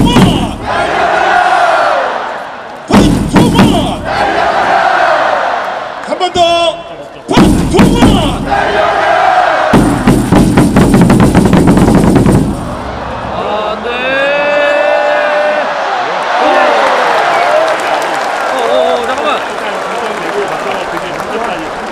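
Baseball crowd at Jamsil Stadium cheering for the LG Twins against Doosan, with loud rhythmic clapping, chanting and thumping bursts, then a sustained roar of voices, all near and intense.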